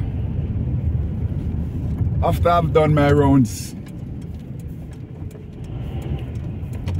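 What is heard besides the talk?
heavy road traffic at a roundabout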